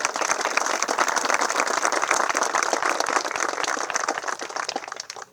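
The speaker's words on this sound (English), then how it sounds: "Now let's give all of them a round of applause" Audience at the West Airfield Program groundbreaking at St. Louis Lambert International Airport applauds state representatives, a dense, steady wash of many hands clapping that fades slightly near the end.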